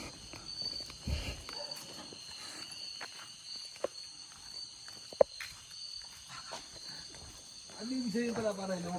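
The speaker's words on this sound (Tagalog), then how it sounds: "kuliglig na yung marinig nyo habang naglalakad kami" Crickets chirp at night along a dark trail at Camp Atara, a steady high trill running beneath footsteps, occasional sharp clicks and faint voices as people walk.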